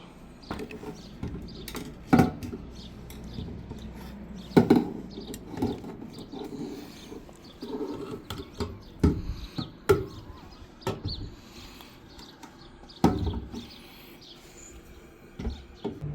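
A fuel pump assembly is being fitted back into a 2002 Toyota Sequoia, heard as scattered sharp knocks, clunks and taps at uneven intervals over a quiet background.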